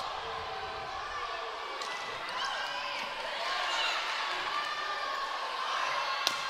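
Crowd at a Division II women's volleyball championship match between Tampa and Washburn responds to a rally with a sustained, swelling cheer in a large arena, heard at a distance. An announcer talks over it.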